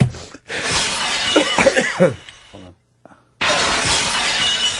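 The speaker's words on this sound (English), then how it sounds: "Let's hear the glass crack." Glass shatters in a sound effect from a song, a sharp crash with crackling shards, followed by a dense wash of music that drops out briefly and then resumes.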